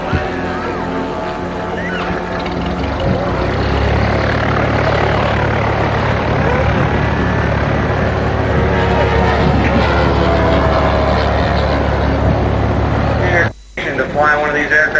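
A model aircraft engine flies in a precision pattern contest at an air show, its loud, steady buzzing drone holding for most of the stretch and dropping out briefly near the end.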